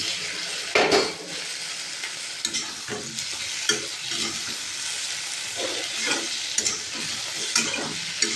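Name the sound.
frying taro and eggplant in oil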